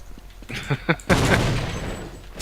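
A small explosion bursts in a first-person shooter game set in a vault with Nazi enemies, a sharp loud blast with crackling debris following a few quick gunfire-like pops, heard without talk.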